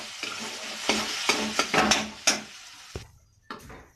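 Semolina for suji barfi is stirred and fried in a pan, with a spoon scraping and clattering against the metal in uneven strokes over a soft sizzle, close up and without talk.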